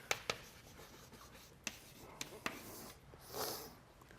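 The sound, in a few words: writing an equation by hand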